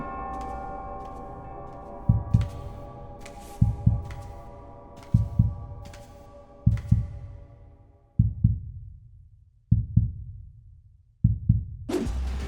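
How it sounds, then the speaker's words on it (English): Heartbeat sound effect with evenly spaced double thumps, about seven beats at a steady slow pulse, close and heavy, over a soft sustained musical hum that fades out before a brief sharper sound at the very end. "this is about the heartbeat sound you just heard"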